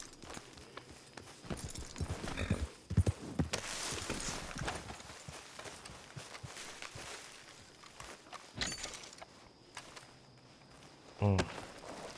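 Horse hooves on the ground in the video game Red Dead Redemption II, irregular clip-clop footsteps mixed with game ambience and a few sharper thuds, with talk heard over it.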